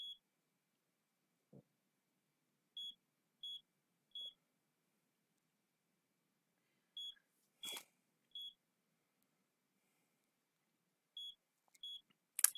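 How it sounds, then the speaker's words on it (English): Carbon monoxide alarm in the video game Dark Nights with Poe & Munroe, giving short high electronic beeps in groups of three with pauses between, plus a couple of faint thumps and clicks in a quiet scene. "Carbon monoxide alarm."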